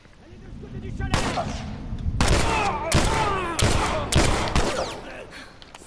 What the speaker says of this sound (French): On va recharger et on va leur tirer dessus.